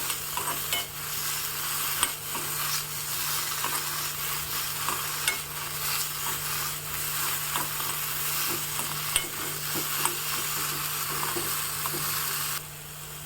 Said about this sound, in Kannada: ಸೂಜಿ ಮೆಣಸನ್ನು ಬಳಸ್ತಾ ಇದ್ದೀನಿ ನೀವು ಹಸಿ ಮೆಣಸನ್ನಾರು ಹಾಕೋಬಹುದು ಇಲ್ಲ ಒಣ ಮೆಣಸನ್ನಾರು ಹಾಕೋಬಹುದು ಚೆನ್ನಾಗಿ ಬಾಡಿಸ್ಕೋಬೇಕು